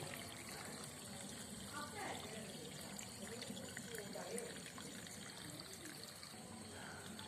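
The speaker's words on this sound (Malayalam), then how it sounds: "വെള്ളം ഇങ്ങനെ സമൃദ്ധിയായിട്ട് ഇവിടെ ചാടിക്കൊണ്ടിരിക്കുന്നുണ്ട്" Water trickles and splashes steadily in a small flowing feature of a home Christmas crib display, a faint continuous babble heard beneath someone speaking.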